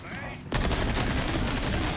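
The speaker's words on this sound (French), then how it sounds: "Allez, la mitraillette." Rapid submachine gun fire in Resident Evil 4 Remake, a dense continuous burst that starts abruptly after a brief quieter stretch and stays loud to the end.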